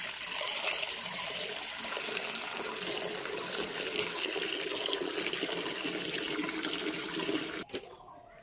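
Tap water runs steadily into a container, a constant hissing, splashing stream heard close and fairly quiet, ending abruptly with a brief knock near the end.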